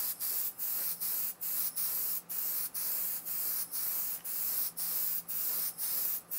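An airbrush sprays pearl paint coats onto a model car in steady hissing passes, each stroke broken by brief regular pauses, close and alone with no talking.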